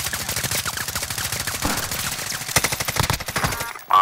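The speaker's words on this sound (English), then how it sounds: "Stop shooting at me!" Rapid automatic gunfire from Call of Duty: Modern Warfare multiplayer, dense bursts of loud close shots rattling continuously with a few heavier blasts near the end.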